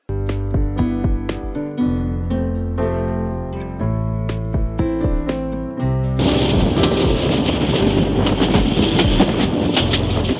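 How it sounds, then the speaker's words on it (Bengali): A train ride homeward to Chattogram. Tonal sounds with sharp onsets come first, then a loud, steady rumble of the moving train carries on without a break. "এরপর ট্রেনে করে ফিরলাম নিজের বাড়ি চট্টগ্রামে"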